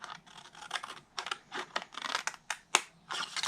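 Cardstock is cut along a score line for a gilded autumn treat box, making a run of short, crisp rasping strokes in quick bursts, close and fairly quiet, with no voices.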